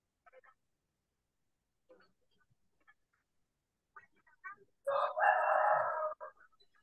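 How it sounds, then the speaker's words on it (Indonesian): A rooster crows once, fairly loud and drawn out, after a few faint scattered sounds in an otherwise quiet setting. "Suara ayam yang ada."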